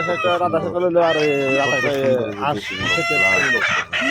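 Local ducklings and poultry crowd a market, giving off loud, shrill, overlapping peeping and chirping calls close by, mixed with nearby human voices.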